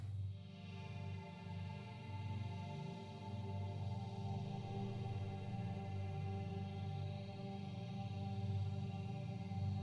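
A sustained Omnisphere synth pad with an airy, breathy texture hums steadily, thick with chorus and echo from a Cloudseed reverb, with no voices.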